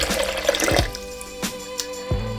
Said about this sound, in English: The first thing we're going to do is put in the liquid, which is 1 cup of coconut water.